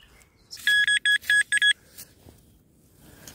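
A rapid series of high electronic beeps from a metal detector on a beach, about six short pulses in a quick burst, then fading into quiet outdoor background.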